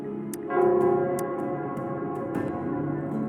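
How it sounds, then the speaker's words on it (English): The Nell Square bell in Wuthering Waves rings out in a resonant tone that swells and lingers, with light ticking strikes scattered over it and no voices. "it's the Nell Squares bell"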